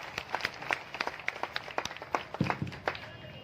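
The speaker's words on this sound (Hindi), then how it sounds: "जोरदार ताली।" A crowd at an outdoor Eid gathering speech claps in a quick, irregular patter. The applause stays moderate and slightly distant throughout.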